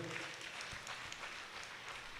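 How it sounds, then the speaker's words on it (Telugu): Audience applause welcoming a guest at a Lenten gospel healing convention in Kantakapalli, Vizianagaram district: steady, faint, dense clapping throughout. "వారికి స్వాగతం పలుకుదాం చప్పట్లు కొడుతూ."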